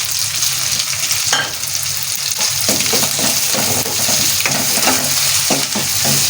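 Fried masala is stirred in a pan after coriander leaves and green chillies go in, producing a loud, steady sizzle with repeated scraping strokes of the spoon and no voices.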